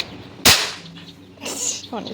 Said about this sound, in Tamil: அவ்வளோதான் பட்டாசு தீபாவளிக்கு